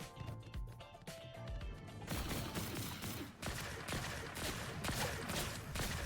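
Gunfire hits the player in Fortnite: a dense, continuous burst of rapid shots and mechanical clatter that gets louder and harsher partway through and keeps going to the end.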